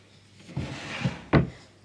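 A nursery drawer holding baby carriers slides open or shut, giving a short wooden rub and a firmer knock at the end, close and clear with no talk.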